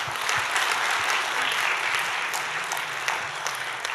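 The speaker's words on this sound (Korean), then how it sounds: "진짜 우리 한번 박수하겠습니다" Warm applause from a church congregation during a worship service, a dense, steady patter of clapping that fills the room and holds evenly for a few seconds.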